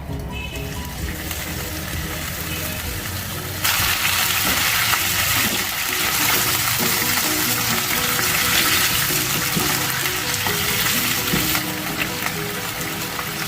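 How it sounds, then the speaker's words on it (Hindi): Mutton pieces dropped into a hot pan for Eid-special achari dishes, a steady loud sizzle and hiss of frying that jumps louder partway through and keeps crackling continuously. "अब हम इसमें गोश्त ऐड करेंगे।"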